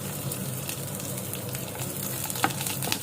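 Onions fry in a pan with a constant, dense sizzle and crackle, with a few sharper pops and stirring scrapes scattered through the sound.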